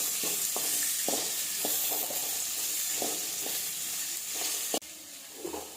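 Sliced large onion and three chillies sauté in a pan with a constant close sizzle, broken by regular scraping stirs of a spoon about every half second, with a sharp knock near the end.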